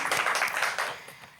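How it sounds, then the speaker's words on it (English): An audience applauding a spelling champion, a brief burst of clapping that fades toward the end. "let's give her another round of applause"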